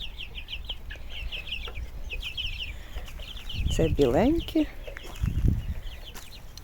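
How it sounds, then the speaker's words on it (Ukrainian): Mixed-breed chickens and chicks clucking and chirping in the background, with someone speaking briefly over them and some rustling nearby. "Ой, яка красива курочка."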